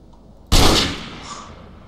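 A single sharp gunshot cracks out in MTA DayZ, loud and close, followed by a fading echo tail.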